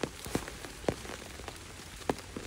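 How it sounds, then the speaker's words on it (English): Rain falling on a hiking trail out of Duncannon, Pennsylvania, a soft steady patter with a handful of distinct, louder drops striking a nearby surface at irregular intervals. "Tomorrow should be interesting with all this rain."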